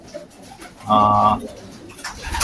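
A pigeon gives a close, clear coo with a short low warbling phrase in the middle, set against faint background noise.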